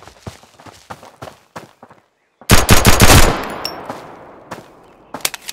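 Gunfire in Road to Vostok, a sharp loud cluster of rapid shots followed by a decaying echo, preceded by quiet footsteps and a few more distant cracks afterward.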